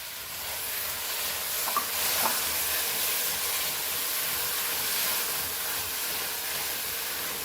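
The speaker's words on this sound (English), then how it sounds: "And roast again this masala, which is already roasted, for few minutes in this, and the onion becomes a little bit soft" Masala roasting with onion in a pan for Goan pork roast, giving a faint, steady sizzle and hiss throughout with a couple of small stirring clicks and no voices.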